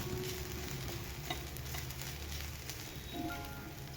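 Ground garlic, coconut and green-garlic masala sautéed in a pan with fried curry leaves for a green chana rassa bhaji, giving a steady close sizzle with the soft scrape of stirring throughout.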